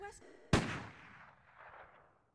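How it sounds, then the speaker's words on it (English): A single gunshot goes off in a nearby room in the 1996 video game Resident Evil: one sharp, loud crack after a brief voice, then a long reverberant tail that fades to silence. "the three of you hear a gunshot from a nearby room"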